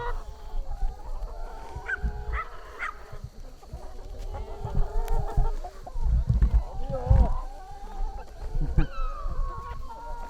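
Chickens and roosters at a poultry market, with scattered clucks and squawks near and far over a busy, rumbling background and bursts of people talking nearby.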